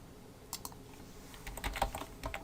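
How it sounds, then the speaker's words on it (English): Soft, irregular clicks of typing code on a computer keyboard while building a web hosting template, faint and close with a low hum behind and no talking. "I would suggest putting this code that I'm typing right now into a snippet"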